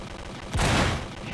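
Turret gunfire in the Chaos Defenders tower-defense game: one sharp loud blast with a booming low burst that decays quickly over background game noise.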